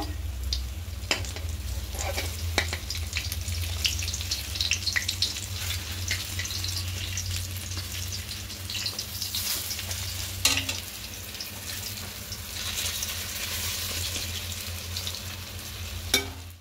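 Besan-coated bread slices fry in lightly heated oil in a wok, giving a steady close sizzle with occasional soft knocks and stirring sounds, no talk.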